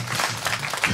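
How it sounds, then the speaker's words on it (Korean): Audience clapping at a pumba folk performance during a ceramics festival in Gimhae, a brief, dense burst of crowd applause heard up close. "박수 한번 주세요."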